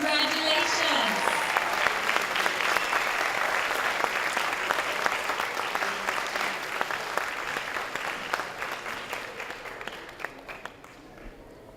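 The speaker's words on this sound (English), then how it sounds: "Let's give them one more big round of applause to all our Math B winners." Audience applause at a school board meeting awards presentation for Math B winners, a sustained dense round of clapping from a crowd that gradually tapers off toward the end.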